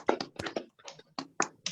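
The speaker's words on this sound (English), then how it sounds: "That's where we give him a round of applause now." Applause at a Yoruba World Congress UK & Europe inauguration event comes as a short run of close, distinct hand claps, irregularly spaced and fairly quiet, with no voices over them.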